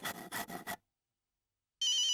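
A telephone rings with a bright electronic tone that starts abruptly and loud after a short silence, following a few earlier bursts of sound.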